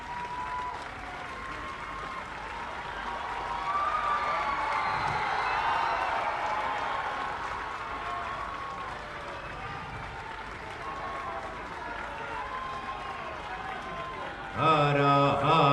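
An audience applauds at the inauguration of ghats in Gorakhpur, sustained clapping that swells and fades over several seconds before a voice begins speaking at the end.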